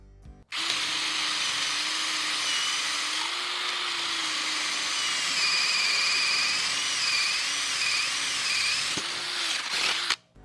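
A Ryobi cordless drill bores with a 5/8 spade bit: a loud steady whine starts abruptly, holds for about nine seconds with slight pitch wobbles as the bit bites, then cuts off.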